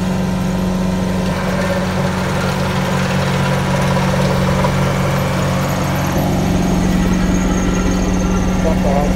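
Engine of a homemade vibrating lawn roller running on dry ground, a loud steady idle-like hum with constant low vibration throughout, close to the microphone.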